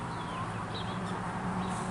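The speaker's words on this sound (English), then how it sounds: "And they're clucking at everybody for laying eggs." Hens cluck softly in the background over a steady low hum, faint and continuous.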